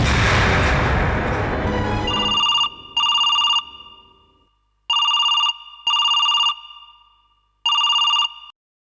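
A telephone rings in repeated electronic bursts, five clear rings spaced by short silences, loud and close, after a dramatic booming rumble that fades away.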